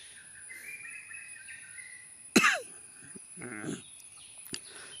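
A single sharp cough bursts out midway on a trekking trail, followed by a few softer throat sounds, with faint bird chirps and insect buzz in the quiet outdoor background.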